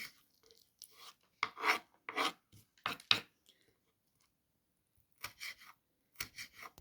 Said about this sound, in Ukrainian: Далі нарізаємо одну чи дві перчинки, солодкі.